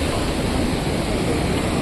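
A river rushes at night near a bridge on the Sonprayag to Kedarnath route, a loud, steady broadband roar of water close by with no speech.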